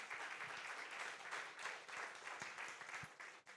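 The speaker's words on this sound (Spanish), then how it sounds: "denle un aplauso al Señor inmenso por eso" A church congregation applauds during a Spanish-language sermon, a faint, steady wash of many hands clapping at once with a few sharper claps standing out.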